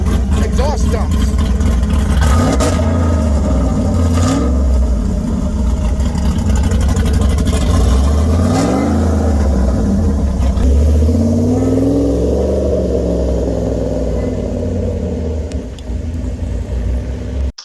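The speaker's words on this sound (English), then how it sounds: "this car where we have remote control exhaust dumps" Pontiac Fiero engine with remote control exhaust dumps rumbling and revving in several rising and falling sweeps, loud and close, with someone talking over it throughout.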